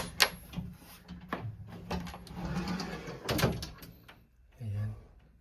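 A home furnace door is pulled open during filter cleaning, giving a few close clunks, rattles and scrapes of the panel with short pauses between them, and a voice talking faintly at moments.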